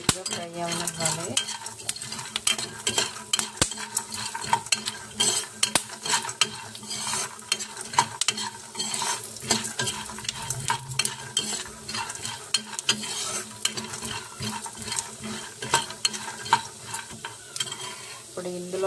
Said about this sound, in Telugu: పల్లీలు అయితే లైట్గా ఫ్రై అయ్యి ఇందులోనే కొంచెం అంత పుట్నాల పప్పు అయితే వేసుకుంటున్నాను